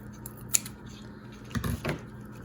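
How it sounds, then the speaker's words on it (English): A few sharp snips of cheap, dull scissors cutting through ribbon, spaced apart with quiet gaps between, close and fairly soft. "these scissors are crappy"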